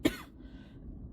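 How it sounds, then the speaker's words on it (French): A single sharp cough bursts out close to the microphone, followed by a faint lingering throat sound and quiet room background. "je vais tousser donc je vous laisse."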